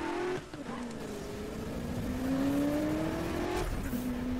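Car engine in a Need for Speed drift race, revving steadily with rising and falling pitch as the car accelerates, with tire squeal and continuous loud engine drone throughout.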